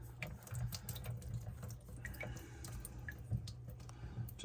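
Water runs steadily from a faucet during an aquarium water change, a soft, continuous hiss and splash with light drips, fairly faint and heard alone.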